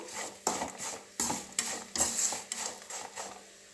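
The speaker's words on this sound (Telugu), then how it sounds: "ఇప్పుడైతే రైస్ వేసానండి రైస్ని అడుగు నుంచి నీట్గా కలపండి" Rice being stirred and mixed from the bottom of a pan while making coconut rice, heard as a series of close scraping, clinking utensil strokes against the pan in an irregular rhythm, with no talking.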